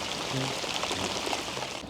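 Rain patters steadily over a lake or river during a fishing trip, a soft continuous hiss of drops on water and surfaces with no talk.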